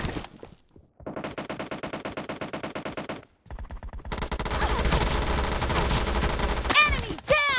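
Automatic gunfire from the mobile shooter game PUBG Mobile: a long rattling burst, a short pause, then another fast volley blending into denser continuous fire, with a few sharper shots near the end.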